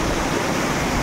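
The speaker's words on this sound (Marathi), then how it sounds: "आम्ही आता धबधब्यावरती पोचलो आहे" A waterfall in Konkan roars loud and close, a steady broad rush of falling water with no break.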